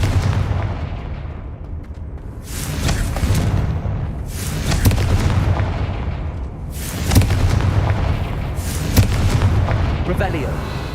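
Repeated fire-spell explosions in the Hogwarts Legacy video game, each a deep booming burst with a crackling tail, recurring roughly every two seconds at close range among dense game audio.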